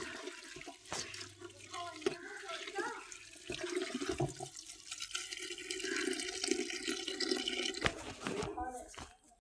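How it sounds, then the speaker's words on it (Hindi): Mustard greens and spinach are washed by hand in water for a village-style sarson ka saag, giving continuous sloshing, splashing and trickling. A person talks over it throughout. "तीन से चार बार इसको अच्छे से धोना है साग"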